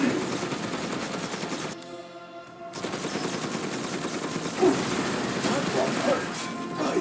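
Rapid bursts of gunfire in Resident Evil Village rattle loudly and almost continuously, with a short drop-out partway through and crashing impacts near the end.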